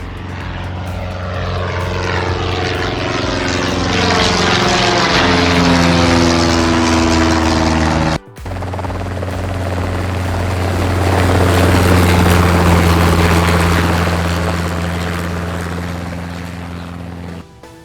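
A turboprop aircraft's propeller engine drones loudly and steadily with a rising, shifting whine. It cuts out briefly around the midpoint and then resumes as a continuous roar.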